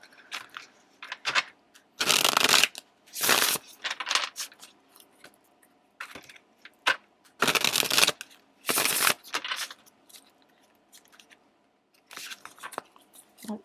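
Tarot cards are shuffled in repeated bursts of crisp riffling and slapping, several loud flurries separated by quieter handling and brief pauses, close up with no talk.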